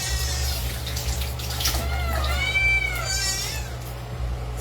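A pet cat meows loudly and close by in a home, giving a couple of drawn-out, rising cries over a steady low background hum, and no one speaks.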